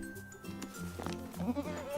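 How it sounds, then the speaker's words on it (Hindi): A goat gives a short, wavering bleat near the end of a brief stretch of tonal background sound, close and moderately loud. "बकरी, चबाना छोड़ो, खलिहान में जाओ।"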